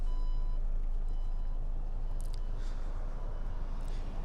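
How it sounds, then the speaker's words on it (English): A Porsche Macan power tailgate closes electronically, its warning beeps repeating in a steady pattern over a continuous low mechanical hum, near and fairly quiet. "to close it is electronically closing as well if I hit that little button."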